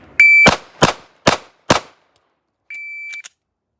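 Shot timer beeps, then four sharp pistol shots fired in quick succession during a drill, close and loud, followed by a second timer tone and a short click.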